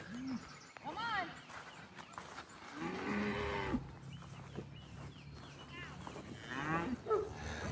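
A cow moos several times on a rural property, with drawn-out lowing calls, one long and fairly close, amid quiet outdoor background and some faint bird sounds.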